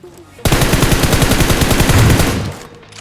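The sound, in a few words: AWM rifle gunfire in BGMI (PUBG Mobile) video game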